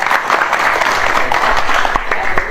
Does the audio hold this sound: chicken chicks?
no